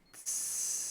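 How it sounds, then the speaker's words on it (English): Fiery sizzle of a player burning in a competitive esports video game match, a sudden steady hiss that swells loud after a brief lead-in and holds to the end, heard alone without talk. "That's the sound of a sizzle. Man's on fire."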